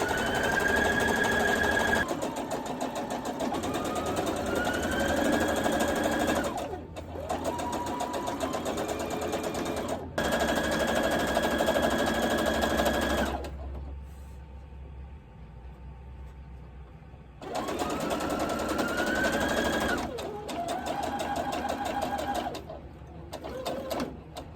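A home sewing machine stitching a fabric rod pocket runs in long steady whirring stretches, close and fairly loud, with brief stops and one longer quieter gap before it starts up again.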